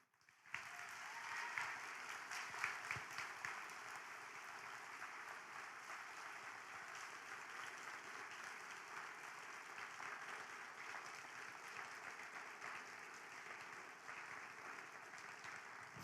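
Staff standing for a round of applause at a school awards and promotion ceremony, faint, distant steady clapping from a hall audience that starts abruptly and carries on evenly.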